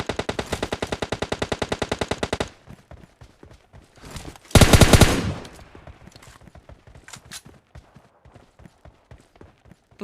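Gunfire breaks out in a battle royale video game fight: a fast, even burst of automatic fire, then a loud short volley. Scattered single shots and footstep-like taps follow, close and sharp.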